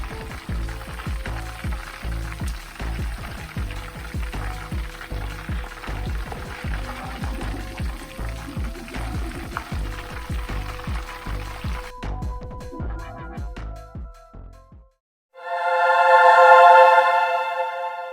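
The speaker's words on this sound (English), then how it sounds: "And these are our amazing fried turkey wings." Turkey wings fry in hot oil with a dense, steady crackling sizzle for about twelve seconds. The sizzle then thins and dies away, and a short, bright tonal burst follows at the end. Nobody speaks.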